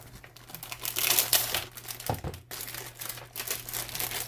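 Clear plastic packaging from a travel kit crinkles and crackles continuously up close, loud rustling handled steadily with no talking.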